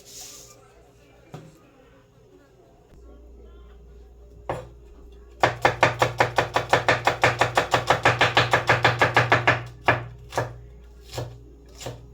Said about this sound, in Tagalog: hiniwa ko yung mga sibuyas.